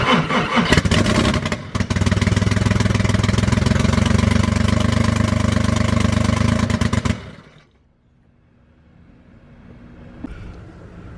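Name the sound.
VW VR6 engine cranking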